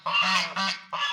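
Domestic geese give three loud, close, nasal honks in quick succession, with no voices.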